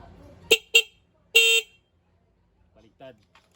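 A Rusi Macho 175 motorcycle horn fitted with an interrupter relay, sounded in three sharp beeps: two quick short toots, then a longer blast, close and loud. Faint background noises follow.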